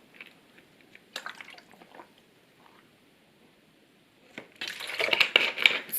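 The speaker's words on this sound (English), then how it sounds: "Little sip of water and then let's continue." A small sip of water taken close to the microphone: quiet slurping and liquid sounds with a few soft taps, then a denser burst of wet mouth and swallowing noise near the end.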